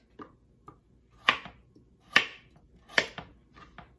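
A knife chops through vegetable greens on a cutting board while preparing vegetables for roasted chicken, giving several sharp, close cuts spaced irregularly, with a few softer taps in between.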